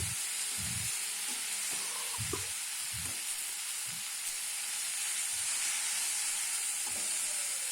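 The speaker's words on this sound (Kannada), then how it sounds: "ಜೀರಿಗೆ ಅನ್ನು ಸೇರಿಸಿ ಅದನ್ನು ಸ್ವಲ್ಪ ಹೊತ್ತು ಹುರಿದುಕೊಳ್ಳಿ" Cumin seeds frying in hot oil for ridge gourd chutney make a continuous close sizzle, with soft scraping stirs and light taps against the pan now and then.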